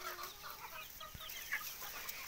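Free-range desi chickens on a poultry farm cluck softly and intermittently at a distance, a few faint calls over a low background hiss.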